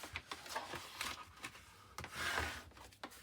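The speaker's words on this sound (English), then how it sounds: "So we'll get on and fold and burnish all of our score lines." Card being folded and burnished along score lines for a cake box, heard as a series of close, brisk rubbing and scraping strokes with short pauses between them.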